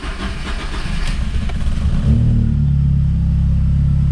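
A used car's engine is started in neutral with the brake held: a cranking rumble builds for about two seconds, then catches into a steady, loud low idle that continues to the end.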